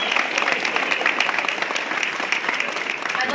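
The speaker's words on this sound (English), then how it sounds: "Let's give everybody a round of applause" A crowd at a charity ball claps in a sustained round of applause, many hands making a dense, even patter that holds steady and fairly close throughout.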